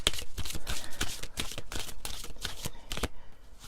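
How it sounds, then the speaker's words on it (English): A deck of cards being shuffled, a rapid run of crisp riffling flutters and slaps, close and steady, with no talk over it. "One more shuffle."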